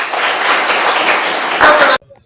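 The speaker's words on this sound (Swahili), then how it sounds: "Pigeni makofi mpaka hapo." A school class claps hands together in dense, loud applause for about two seconds before it stops abruptly, leaving near silence.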